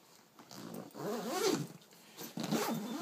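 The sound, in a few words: camera bag zipper being zipped up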